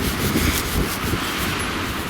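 A sponge scrubs a car's bodywork during a bucket wash, making a continuous rough rubbing and swishing noise, close and fairly loud, with no talking.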